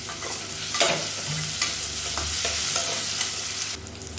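Onions fry in oil in a pan while being stirred, giving a continuous close sizzle broken by repeated scraping strokes of the spoon, with no voices.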